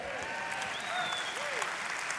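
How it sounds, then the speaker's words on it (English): A church congregation cheers and applauds during a sermon, with steady dense clapping from a full room for a couple of seconds and scattered whoops riding above it. "and then we're all gonna cheer."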